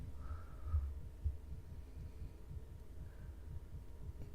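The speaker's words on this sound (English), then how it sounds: "And he has a fast heartbeat." A fast heartbeat in Pathologic 3: low, muffled thumps repeat at a quick, regular rhythm under a faint hum, with no talking.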